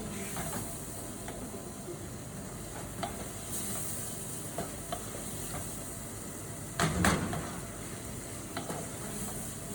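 Flour stirred into a roux in a pan for a lobster and prawn bisque sizzles quietly and steadily, with scattered scrapes and clinks of the spoon and one louder clatter near the end.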